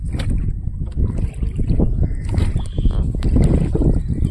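A motorboat ride through the Pichavaram mangroves, with a steady engine and water rumble mixed with wind buffeting the microphone throughout, fairly loud and continuous.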